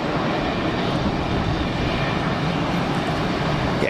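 Airliner landing at Geneva Airport with its clamshell thrust reversers deployed, giving a loud, steady broadband roar that holds evenly through the whole stretch without a break.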